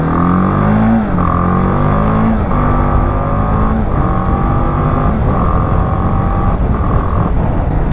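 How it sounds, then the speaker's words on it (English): A BMW G310GS motorcycle's exhaust drones loud and close, revving through rising gears with brief dips at each shift, and no talk over it. "I don't really like the sound of the exhaust on this bike."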